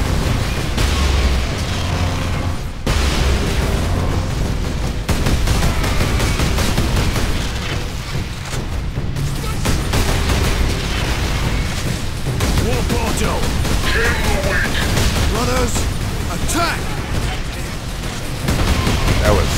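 A grenade blast in Warhammer 40K: Space Marine lands amid continuous loud battle noise, booms and gunfire rolling on under a voice speaking.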